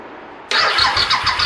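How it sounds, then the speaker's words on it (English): A Suzuki SV1000 motorcycle engine cranks briefly and catches, firing into a loud, close, throbbing idle with a steady pulsing rhythm. "What we're going to do is we're going to start the bike up."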